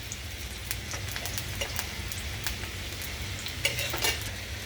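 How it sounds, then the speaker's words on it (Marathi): Oil sizzling in a kadhai while vegetables fry, a continuous close crackle with scattered sharp pops throughout. "इथे मी बाजूला कढईमध्ये तेल तापत ठेवलंय"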